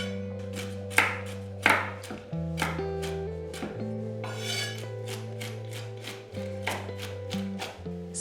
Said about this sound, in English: For the finishing touch, chop 30 grams of walnuts